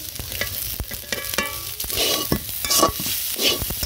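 Goat stomach pieces fry with salt in a pan, a close, steady sizzle broken by repeated scraping and stirring strokes of a spatula, with no voices.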